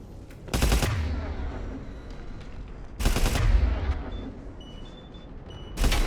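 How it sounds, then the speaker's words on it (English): Gunfire in the shooter Mass Effect 3, three short, loud bursts of rapid fire separated by quieter stretches of low background rumble. "Foxtrot and Bravo are taking heavy fire."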